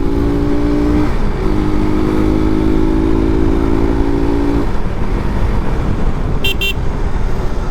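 A motor vehicle's engine running loudly on the road with a steady, buzzing drone and a wavering tone, then a quick double horn toot near the end.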